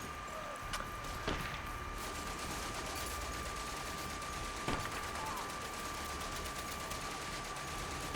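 Gunfire in the World War One game Soldats Inconnus: Mémoires de la Grande Guerre, with a few sharp distant shots cracking at irregular intervals over a steady noisy battlefield background.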